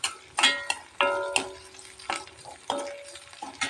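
Onions frying in sesame oil, being stirred so the sizzle comes in uneven bursts, with clinks of a spatula against the pan, close and fairly loud with no talk.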